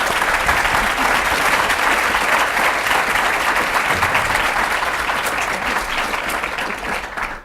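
Audience at a blockchain panel discussion gives the panelists a sustained round of applause, dense and steady from start to finish before tapering slightly at the end.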